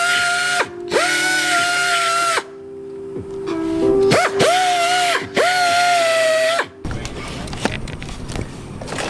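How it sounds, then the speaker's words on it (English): A power sander whines up in several loud bursts with short pauses between, ending in a stretch of harsh gritty grinding on a plastic bumper lip. "what we're doing now is sanding this little lip part right here so it fits flush up here"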